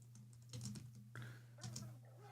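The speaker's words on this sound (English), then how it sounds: "Sorry, I'm just typing out these names." Computer keyboard typing in quick bursts of clicking keystrokes close by, with a steady low hum underneath and brief pauses between runs.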